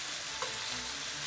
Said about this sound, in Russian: У нас уже какое-то время жарится и овощи